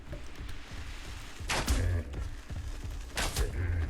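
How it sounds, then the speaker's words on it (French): Gunshots in the survival video game ARK, a few sharp blasts in two clusters with thuds between, fairly loud over a low game background, with someone speaking briefly. "Quand on tire dans la tête, ça fait plus de dégâts."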